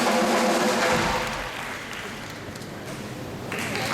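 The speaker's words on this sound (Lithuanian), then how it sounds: "Niekada nenutyla plojimai, garsiau!" A crowd applauds at the opening ceremony of a sports arena, loud at first and then settling into steadier, softer clapping that swells again near the end.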